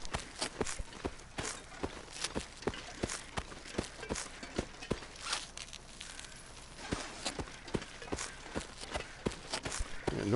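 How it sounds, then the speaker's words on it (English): Footsteps in The Long Dark, the survival video game, fall in a steady, fairly quick rhythm of loud, close, crunchy steps that run continuously for about ten seconds with no talking. "I feel like my footsteps are really loud all of a sudden."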